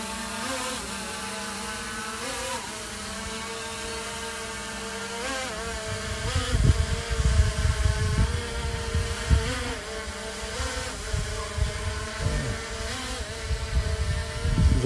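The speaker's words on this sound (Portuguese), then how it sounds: "Vamos fazer aqui um pequeno voozinho aqui de drone." A steady, high buzzing whine of a small SJRC F22S Pro quadcopter drone's propellers hums throughout, rising and falling slightly in pitch, with some wind buffeting and rumble underneath.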